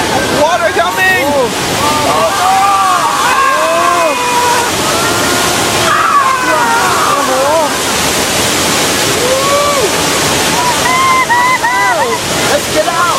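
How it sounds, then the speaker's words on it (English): Water from a broken water main on an earthquake ride effect gushes as a loud, continuous rushing roar, while excited voices shout and talk over it throughout. "The water main just broke."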